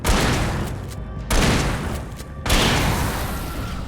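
Shotgun blasts in the video game Alan Wake Remastered, three loud, booming shots spaced about a second apart, each a sharp broadband crack followed by a heavy decaying roar.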